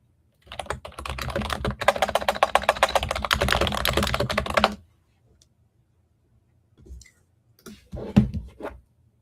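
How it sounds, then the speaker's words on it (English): Loud, fast typing on a computer keyboard, a dense run of close clicking keystrokes for several seconds, then a pause and a few short scattered bursts of keys. "Starts loudly typing to Google."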